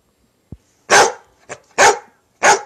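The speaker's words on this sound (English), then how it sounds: "That's where the dog barking came from." A dog barks in three loud, close, broad bursts, preceded by a short low thump and a faint yip, with brief gaps of quiet between barks.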